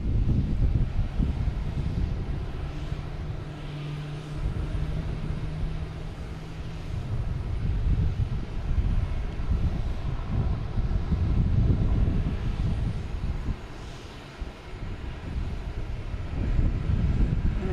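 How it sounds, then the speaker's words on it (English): An American Airlines Embraer E-145 jet airliner at Boston Logan produces a steady, broad engine roar that holds for the whole stretch, loud and continuous with wind buffeting on the microphone. "I got that American Airlines E-145 heading to Philadelphia."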